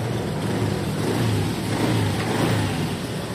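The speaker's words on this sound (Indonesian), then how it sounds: "Motor nyala nih bang." A Honda Scoopy motor scooter engine runs steadily close by, with its ignition switched off but the engine still going. The engine keeps up a continuous mid-pitched drone with slight fluctuations and no talking over it.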